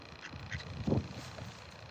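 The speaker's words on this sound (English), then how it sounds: "That's my little mallard friend." A mallard duck near a river bank during spring walleye fishing gives a short quack or two, close and moderately loud, with a stronger burst near the middle over faint outdoor background.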